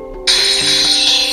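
Sharp mechanical clicking from the pin mechanism inside a Kamen Rider Scrash Driver toy belt, a loud snap followed by a buzzing ratchet-like rattle and a second click, close and alone.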